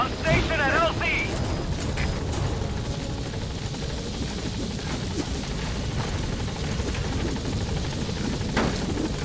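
Helicopter Pequod from Metal Gear Solid V arriving at a landing zone: a steady, loud rotor roar fills the whole stretch, with a brief voice near the start.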